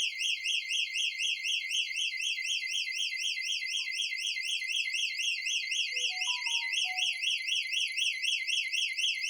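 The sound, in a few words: alarm system siren activated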